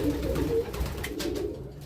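A male homing pigeon coos close by while courting a female, a steady low throaty cooing that runs through the whole moment.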